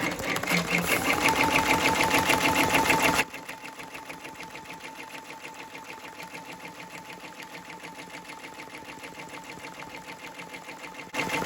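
An embroidery machine runs a tack-down stitch on a sweatshirt with a rapid, steady mechanical chatter, loud at first and then settling to a quieter, even hum.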